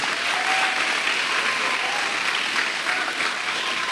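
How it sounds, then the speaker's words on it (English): Applause from parents and guests at a Year 6 school graduation ceremony, a loud, continuous roar of many people clapping together, holding steady for the whole stretch without talk. "I'd like everybody to applaud the team of teachers that have worked with these children."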